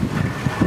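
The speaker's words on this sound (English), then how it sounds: "The wind's picked up to, I would guess, probably 15, 16 knots." Steady wind roars across the microphone aboard a cutter-rigged sailboat off Catalina Island in about 15 knots, with low rumbling gusts and water rush over four-foot seas, no voices.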